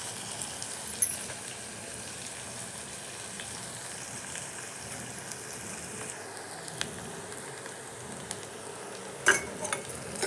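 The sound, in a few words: onions frying in a pan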